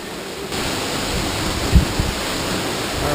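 Continuous broadband rushing of a waterfall in Grenada, steady and fairly close, with a brief low thump partway through.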